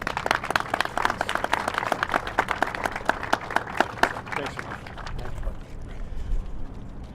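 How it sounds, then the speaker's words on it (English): Crisp applause from a gathered audience at a city event, with distinct close claps for about five seconds before it fades into low background rumble and murmuring voices. "Let's all give them a round of applause."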